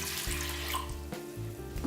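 A steady, close stream of water pours into a stainless steel Instant Pot inner pot holding dal, with a continuous splashing rush that shifts slightly in pitch as the pot fills.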